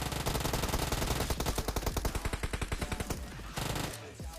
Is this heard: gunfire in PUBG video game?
yes